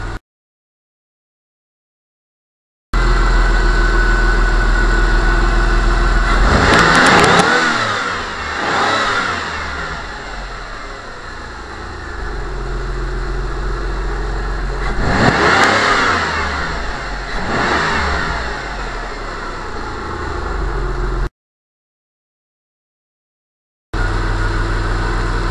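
A 1996 Chrysler Sebring fitted with an aftermarket air intake idles and then revs hard twice, its engine note rising and falling loudly and close up, followed by a short pause and further engine sound.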